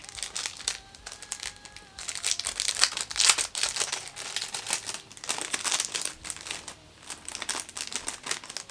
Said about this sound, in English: I'll take them out of the cellophane because I think they're reflecting on camera